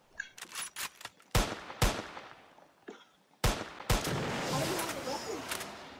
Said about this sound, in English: is someone just trying to hit us with a rocket launcher?